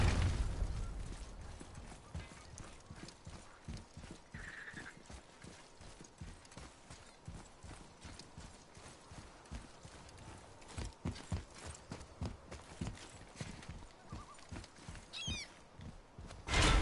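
Steady clip-clop of horse hooves in the God of War video game, a continuous rhythmic trot of sharp hoof knocks that grows busier and louder toward the end, with a faint neigh in the background.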